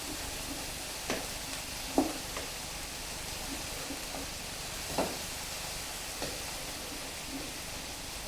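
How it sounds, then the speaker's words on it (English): Vegetables and okra sauté in a pot for gumbo, giving a soft, steady sizzle with a few faint stirring clicks and knocks. "you definitely want to saute it with the rest of your veggies"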